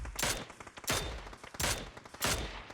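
Tap-fired rifle in PUBG, shooting at targets: four crisp, loud shots spaced roughly half a second to a second apart, each with a short ringing tail.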